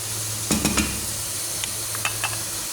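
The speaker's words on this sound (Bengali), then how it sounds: "এখানে আমি আরও কিছু মাংস যে কষায় রাখছিলাম সেটা দিয়ে দেবো।" Meat tossed into a hot pan of Bengali curry with red chili, sizzling steadily while a spoon stirs in a few quick scraping bursts, close and alone.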